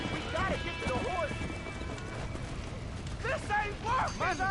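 Horse hooves clip-clopping at a run in the Red Dead Redemption video game during a barn fire, with neighing, urgent talk and a crashing game soundscape layered over the hoofbeats.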